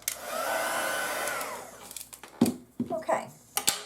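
A heat tool blows steadily to melt embossing powder on small craft pieces, a loud continuous rushing whir for about two seconds, then it cuts off and scattered handling clicks and taps follow close by.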